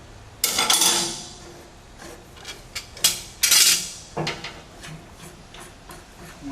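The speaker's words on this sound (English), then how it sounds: "Typically you just use a big pair of channel locks to hold the cylinder and a crescent wrench." Metal hand tools clink and scrape as channel locks grip a gas cylinder and a crescent wrench loosens its cap, giving a few sharp near ticks and rattles with quiet gaps between them.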